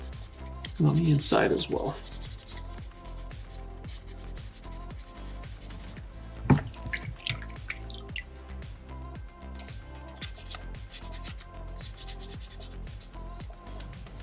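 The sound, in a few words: sandpaper sanding a soapstone bison carving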